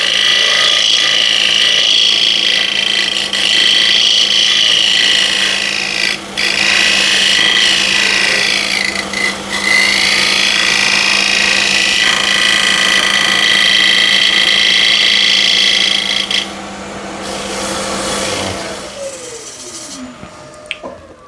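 A thin wooden bowl spinning on a lathe while a scraper is drawn across it in shear, giving a sustained close rasping whir with a steady motor hum, brief dips mid-way, then the lathe winding down near the end.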